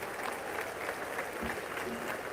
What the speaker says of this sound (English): You hear them clapping?